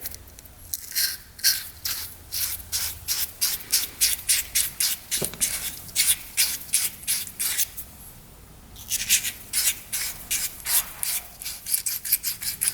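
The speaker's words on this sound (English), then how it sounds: "This is 800 grit. And we're just going to go into the seat and twist that around in there." 800 grit abrasive twisted by hand inside a motorcycle carburetor seat, giving close rhythmic rasping strokes in quick bursts, pausing briefly before another run of scrubbing twists.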